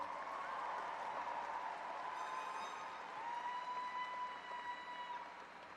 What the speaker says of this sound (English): Can I get a round of applause for our class of 2024?